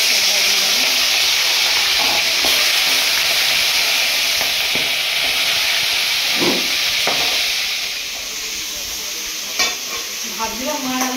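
Sea crab pieces fry in a generous amount of hot oil, giving a loud, continuous hiss with scattered pops and stirring clatter that eases toward the end.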